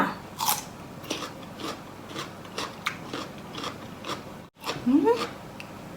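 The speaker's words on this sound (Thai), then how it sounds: "ปลาดิบกรอบขนาดเลยเพ ื่อนเพื่อนเบิ้ง" Crunchy bites of raw salmon from a spicy Thai salmon salad, a string of close, sharp chewing crunches at a regular rhythm, with a brief gap near the end.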